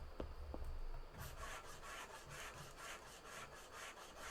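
Rust being sanded off a car body in the Car Dealer Simulator game, a steady rhythmic rasping scrape repeating in even strokes after a brief burst of clunks at the start, fairly close and continuous with no talk.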